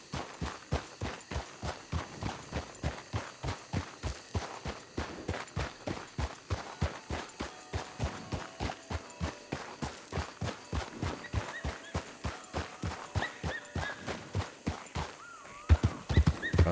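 Horse hooves trot in a steady, even clip-clop rhythm in Red Dead Redemption, close and continuous with no talk, ending in a brief louder burst.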